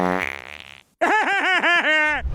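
Cartoon fart sound effect from Family Guy: a short stretch of voiced, warbling sound, a brief gap, then a loud run of about six rhythmic, bouncing tonal pulses, close and prominent.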